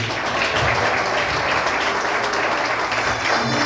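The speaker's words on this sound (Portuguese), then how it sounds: "E que você possa dar uma linda salva de palmas para Jesus." Dense, continuous applause from a large crowd fills the space, loud and steady throughout with no pauses.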